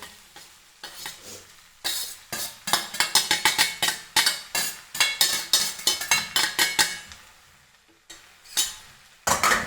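Sabudana pearls stirred in a pan, with rapid rhythmic bursts of spoon scraping and clinking against the metal, loud and close, broken by short pauses before each new run of strokes.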